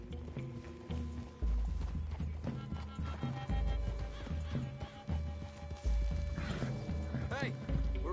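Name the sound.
horses walking and neighing in a video game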